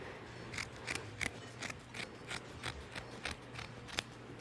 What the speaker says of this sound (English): we'll go ahead and cut the excess burlap off the outsides with a good pair of sharp scissors